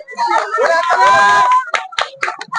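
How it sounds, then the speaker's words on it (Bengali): A short burst of hand clapping from a small group at a balloon challenge game, starting right after a voice speaks and coming as a handful of close, uneven claps. "খুব সুন্দর জোরে হাততালি হোক জোরে হাততালি হোক"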